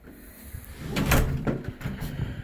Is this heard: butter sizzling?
no